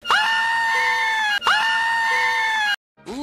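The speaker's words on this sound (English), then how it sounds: "Victory screech." A cartoon character's victory screech in a SpongeBob edit, loud and shrill, sustained in two long identical bursts with a brief break between them and then a short cut-off start of a third.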